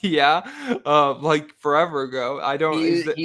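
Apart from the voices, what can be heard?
No everyday noises stand out.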